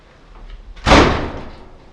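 A single solid slam of a door being shut on a parts hauler vehicle, close and loud with a short dull thud that fades quickly, with quiet wind-like background before it.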